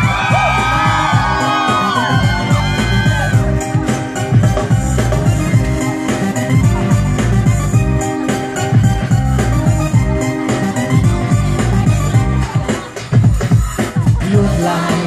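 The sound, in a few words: concert crowd screaming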